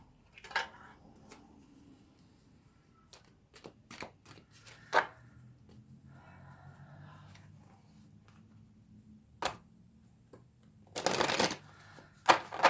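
Oracle cards being shuffled for a reading, with sharp riffling bursts and scattered card taps and clicks, close by and separated by quiet stretches, ending in a louder flurry, no speech.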